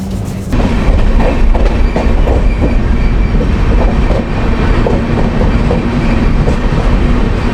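The Jan Shatabdi Express AC chair car runs on the Patna to Ranchi line near Bokaro, with a loud, steady clickety-clack of wheels over rail joints and a constant rumbling roar, no voices.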